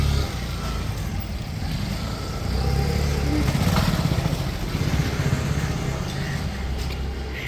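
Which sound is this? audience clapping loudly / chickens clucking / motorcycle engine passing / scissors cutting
motorcycle engine passing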